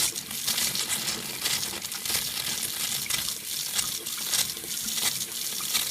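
Well water from a home faucet in a fracking area runs with gas bubbling through it. It is a close, continuous hissing gush broken by irregular sputtering, crackly bursts, with no talk.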